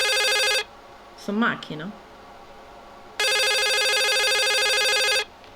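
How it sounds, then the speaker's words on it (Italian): A telephone rings in the game The Suicide of Rachel Foster, two long bright electronic rings separated by a pause, loud and close, with a brief spoken line between them. "Telefono."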